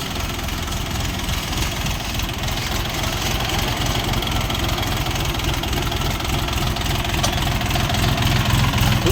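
A Dongfeng 244 G2 mini tractor engine idles steadily, with a close, continuous low diesel rumble and rapid even firing pulses that build slightly toward the end.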